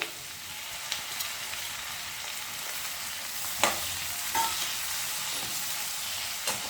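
Onions and curry leaves frying in a kadai, a soft steady sizzle with occasional sharper crackles and pops, close by and fairly quiet, with no talking.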